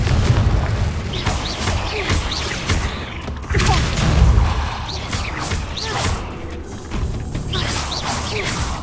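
Repeated Confringo blasting-spell explosions from the Hogwarts Legacy video game, booming thuds and crackling bursts recurring every second or two over a busy, continuous game soundscape with whooshes and spell effects.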